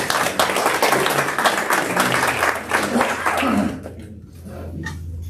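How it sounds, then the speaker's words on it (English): A business forum audience applauds Sheriff Beatty, a candidate at a primary forum, with a dense burst of clapping that carries for several seconds and then drops away, leaving quieter room sound. "Everyone give Sheriff Beatty a round of applause."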